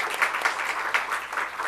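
A church congregation claps in encouragement, a modest, fairly faint patter of overlapping hand claps with a few louder peaks, steady through the short stretch.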